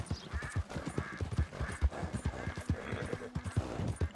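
A horse gallops in the video game Red Dead Redemption 2, its rapid, rhythmic hoofbeats loud and close, with a brief neigh in the mix.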